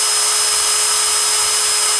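A DeWalt DCD771 cordless drill driver, set to speed 1, spins up close to the microphone with a steady, loud, high-pitched motor whine that holds constant for two seconds and has no talk over it.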